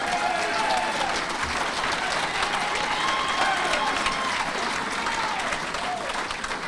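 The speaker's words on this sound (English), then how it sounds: "Go ahead and clap" Audience applause fills a hall, a steady dense wash of clapping from many hands that holds evenly throughout, with faint voices mixed in.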